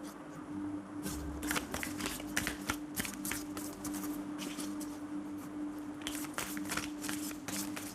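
Tarot cards being shuffled by hand, a run of quick riffling bursts that come and go over a steady low background hum, fairly close and moderately loud with no talk.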